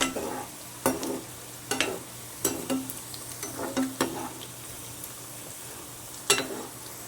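Crispy crab bhaji fritters frying in hot oil: a soft continuous sizzle under repeated scraping and stirring strokes, arriving in irregular bursts with one louder scrape near the end, close by and with no voices.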